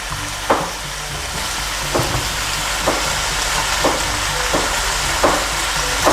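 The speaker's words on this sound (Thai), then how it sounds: "ขั้นตอนแรกนะคะเราก็จะผัดหมูสามชั้นกับโกชูจัง" Pork belly stir-fried with gochujang in a hot pan, a steady loud sizzle with regular clacks of a utensil stirring and scraping roughly every second, with no talking.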